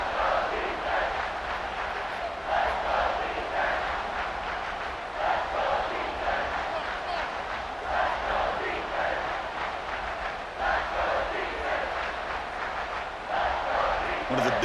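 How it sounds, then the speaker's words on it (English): Stadium crowd in EA Sports College Football 26 roaring continuously in a dense, steady wash of cheering and chanting that swells and dips slightly, with commentary-style voices mixed in. "3rd down, and the crowd really getting into it"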